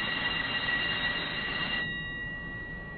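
A train rolls along its rails in a steady, dense rumble with a high metallic whine over it that cuts off partway through, leaving a softer continuing rumble.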